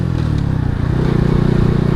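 A 72cc Alfa moped engine pulls up through its revs, a steady close droning buzz that rises and holds loud for the full stretch, with no voices.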